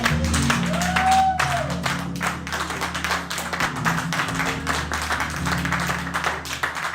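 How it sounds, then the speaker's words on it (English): A church congregation claps hands together in a loud, dense, continuous wave of applause that fills the room steadily throughout, with a faint sustained tone beneath. "clap your hands unto your God like you lost your mind"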